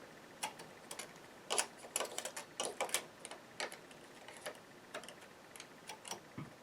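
A needle pusher slides along the needle bed of a knitting machine, setting every other needle for knit 1, purl 1 ribbing, giving a run of quick, close clicks and ticks in irregular bursts with no talking.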